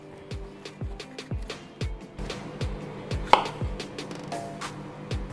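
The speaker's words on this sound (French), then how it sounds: "Pour le poivron, on va juste l'émincer," A knife chops bell pepper into strips on a cutting board for homemade gluten-free pizza, giving a steady series of close, sharp thuds in a regular rhythm, with one louder knock near the middle.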